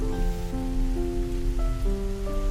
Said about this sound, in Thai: ช่วงเย็นๆนี่ฝนตกหนักจริงๆนะครับ